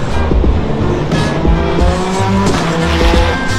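Race cars roar past at the 24 Hours of Le Mans circuit, loud and continuous, engines rising and falling with tire squeal as the cars go by.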